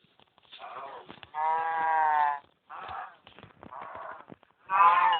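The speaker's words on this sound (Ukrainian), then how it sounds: "ще одна корова." Several cow moos from Minecraft with a synthetic, game-like quality, one long drawn-out call in the middle and shorter lows around it, fairly close and clear.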